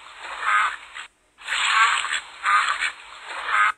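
A duck quacks in a series of short raspy calls, close and distinct, separated by a brief gap.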